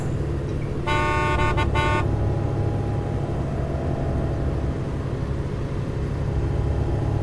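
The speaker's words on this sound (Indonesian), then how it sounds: "mobil minibus di belakangku itu mengklaksonku" A minibus horn sounds in a short burst of several rapid toots near the start, loud and close over a constant engine rumble and road noise, as a night-road effect in a radio drama.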